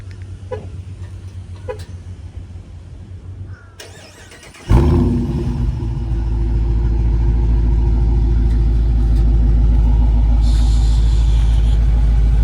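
Dodge Charger R/T with the 345 engine and dual exhaust, 2023 model, cranks and fires up with a loud burst, then settles into a deep, steady rumbling idle close by, no talking.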